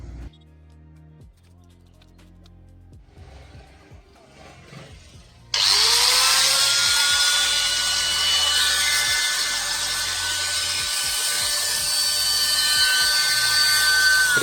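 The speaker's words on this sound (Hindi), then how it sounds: "इसके बाद हम ग्राइंडर को ऑन करके देखते हैं क्या ये अच्छे से वर्क करता है" An angle grinder, repaired after a burnt armature, is switched on and spins up to a loud, steady high-pitched whine that holds without faltering after a quieter lead-in of handling noises.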